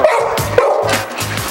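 Dogs bark close by in a quick burst of several sharp, loud barks and yips, one after another with no pause.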